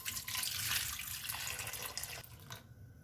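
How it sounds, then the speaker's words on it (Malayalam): Water from a tap splashes steadily into a pot of tomatoes for cooking, a soft continuous stream that fades near the end, heard alone without talk. "തക്കാളി ഒന്ന് ഏകദേശം ഒന്ന് മുങ്ങിക്കിടക്കുന്ന രീതി വേണം നമ്മൾ വെള്ളം ഒഴിച്ചു കൊടുക്കാൻ"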